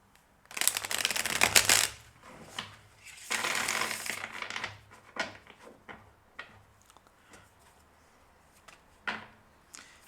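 Tarot cards shuffled by hand in two long riffling bursts, followed by scattered softer card taps and shuffles at close range, with no talking.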